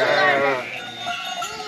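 Sheep in a barn bleat close by while a bell clanks, a brief, full burst of farm-animal sound that fades slightly toward the end.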